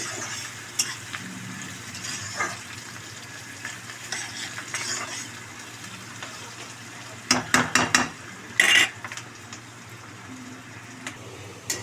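Hot oil spatters and sizzles as chicken fries in a pan, a steady crackling hiss with sharper bursts of popping and a few utensil clinks near the end.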